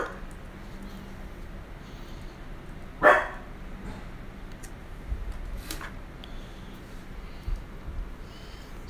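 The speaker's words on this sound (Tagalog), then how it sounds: "Yung aso ko maingay." A pet dog at home barks once, sharp and fairly close, with a few fainter yips following against a quiet room background.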